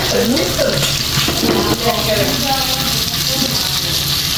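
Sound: potatoes and onions frying in a pan

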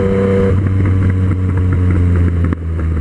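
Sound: Yamaha MT-09 and Suzuki GSX-S750 motorcycles racing

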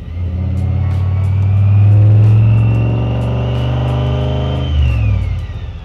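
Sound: 1957 Chevy car engine sound for sound design

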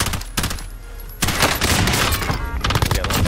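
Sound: gunfire in the video game Call of Duty Warzone

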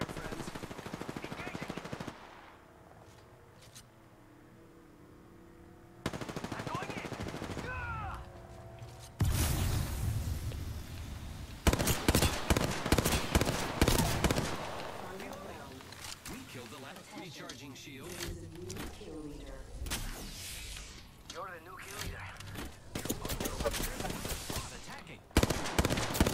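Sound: gunfire in the video game Apex Legends

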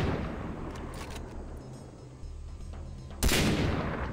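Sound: gunfire in the video game Far Cry 3

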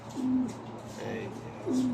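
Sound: pigeon cooing

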